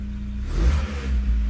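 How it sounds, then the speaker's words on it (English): A Megasquirt-tuned car engine, still in its warm-up phase, revs up briefly and then slowly settles back toward idle, heard close and alone for a second and a half. "when you rev it, it takes a little while to drop back down"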